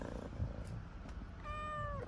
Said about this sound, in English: She's our neighbor's cat.